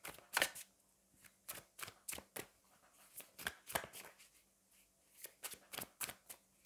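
Oracle cards from a Fallen Angels deck are shuffled, a quick run of crisp papery riffles and slaps repeating across several seconds, close and fairly quiet, with no talk.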